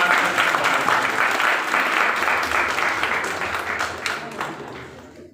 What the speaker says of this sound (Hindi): आप सभी लोगों से अनुरोध है कि जोरदार तालियों के साथ